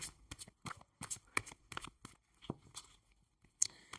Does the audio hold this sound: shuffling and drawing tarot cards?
yes